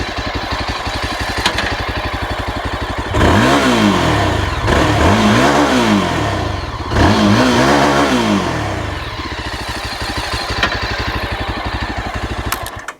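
A Yezdi Adventure motorcycle engine idles, then revs repeatedly through its exhaust in short rising bursts, loud and close, settling back to a steady idle between blips.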